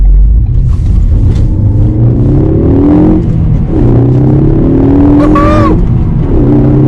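Ford Focus ST hatchback accelerating hard through corners, its engine note rising and falling in repeated surges with tire squeal near the end, loud and close from inside the car.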